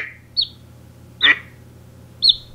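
Cartoonish duck quack effect from the Google Friends Chandler search trick, three short nasal quacks spaced about a second apart, clear and close over a faint low hum.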